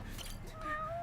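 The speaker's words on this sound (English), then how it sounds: "Oh, look, a cat!" A cat meows once in a video game, a short rising cry over a steady, busy game background.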